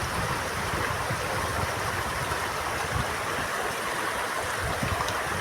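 The Mayantoc River runs full and fast after high water, a steady, dense rushing flow with no pauses, close and fairly loud throughout.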